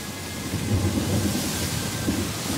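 Heavy, steady rain on an island pours down with a low rumble of thunder rolling underneath, dense and continuous with no voices.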